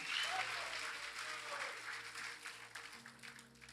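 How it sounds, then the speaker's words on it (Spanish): A church congregation breaks into a big round of applause for the Lord, a steady wash of clapping that tapers off as a voice begins underneath. "Dale un aplauso grande al Señor,"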